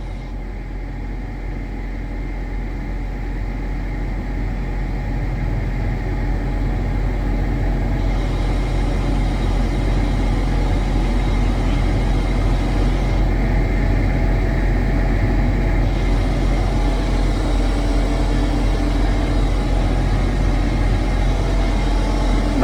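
Diesel-powered refrigeration AC unit on an Ashok Leyland fridge container truck, running as a steady, loud, low droning hum with constant engine rumble for over twenty seconds, with no talk.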